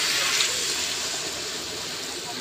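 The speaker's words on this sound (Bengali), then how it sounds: "এই মুহূর্তে আমি এখানে দিয়ে দেবো একটু জল।" Water pours steadily into a pan of vegetarian Malabar spinach curry, a soft continuous gush that holds fairly even for a couple of seconds.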